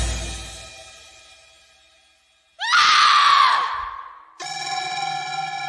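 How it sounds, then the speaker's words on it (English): A single loud human scream from outside rings out sharply, sliding downward and trailing off, alone without talk. "A scream coming from outside cuts the mood."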